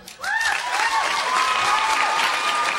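Sustained applause from a live podcast audience at a film discussion event, a broad steady wash of clapping that rises quickly and holds loud throughout, with a couple of cheers or whoops cutting through.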